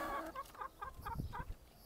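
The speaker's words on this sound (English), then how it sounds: "And this is where my chickens stay most of the time." Chickens in a farm chicken yard cluck in a run of short, repeated calls close by, with several birds overlapping and no talking.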